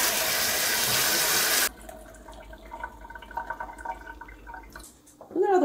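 Water pours steadily from a tap or watering can for a couple of seconds while houseplants such as a bromeliad are watered indoors, followed by softer dripping and light handling clatter.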